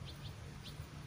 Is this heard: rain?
no